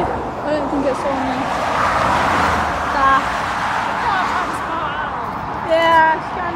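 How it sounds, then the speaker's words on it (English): A DAF truck drives past with a broad, steady roadway rumble and tire hiss that swells and holds, while people talk nearby over it. "There's a daff coming."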